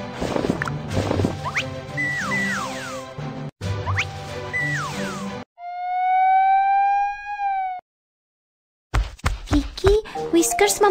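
Cartoon fire engine siren as a fire rescue team sets off, a loud rising-and-falling wail heard alone between stretches of chirpy animated sound effects and music.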